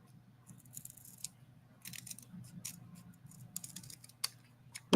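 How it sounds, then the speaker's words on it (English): New serrated craft scissors cut through folded paper in a crafting session, giving several short, crisp snips at close range, separated by quiet pauses and soft handling noise. "try and use my new fancy scissors and see if this works or not."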